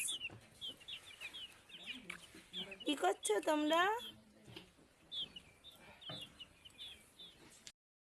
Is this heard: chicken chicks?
yes